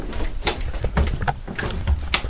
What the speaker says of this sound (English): Don't close the door in my face.